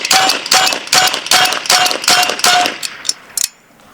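A Bin Tac S45 9mm semi-automatic airgun fired rapidly, about eight sharp, loud close shots in a fast even rhythm, with the last couple of reports trailing off.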